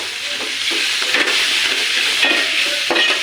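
Green chilies and tomatoes stirred in a hot pan, a steady broad sizzle with soft scraping strokes of the spoon repeating every second or so, close and continuous with no talking.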